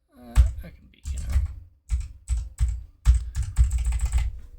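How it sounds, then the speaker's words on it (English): Clicky, clacky mechanical computer keyboard typed in quick bursts of keystrokes with short pauses, close and fairly loud, with faint voice traces in the background. "how are you enjoying the very clicky, clacky keyboard noises?"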